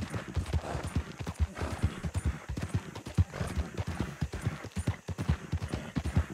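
Steady, rhythmic hoofbeats of a horse in Red Dead Redemption 2 clip-clop at a brisk trot, close and continuous, with no talking over them.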